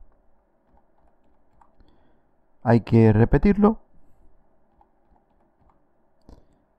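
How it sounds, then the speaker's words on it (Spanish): Soft, faint keystrokes on a computer keyboard as a four-digit PIN is entered during Windows 11 sign-in setup, ticking quietly in the background around a short burst of speech. "Voy a escribir un pin de cuatro cifras."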